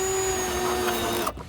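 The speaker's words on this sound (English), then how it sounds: "drilling into the pre-drilled hole" A power drill bores into a pre-drilled hole in the front bumper of a 2015-2023 Dodge Charger while an SRT-style lip splitter is fitted. A close, steady whine runs for over a second, then cuts off abruptly.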